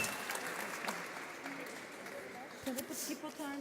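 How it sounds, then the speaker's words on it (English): Audience applause after a CPR competition scenario at a resuscitation conference, a modest spread of clapping from the room, fairly faint and steady, with some talking mixed in. "Round of applause, everybody."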